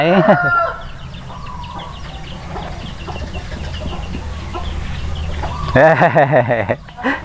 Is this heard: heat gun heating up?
no